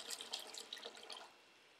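Water running into a measuring cup while mixing homemade pizza dough, a splashy, fairly loud pour lasting about a second before fading into quiet room tone.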